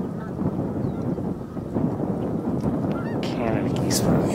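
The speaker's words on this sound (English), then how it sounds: "Canada geese, but I'm hearing something else." Canada geese honking outdoors in a windy spot, faint calls scattered over steady wind rumble and a little background noise, with no voices.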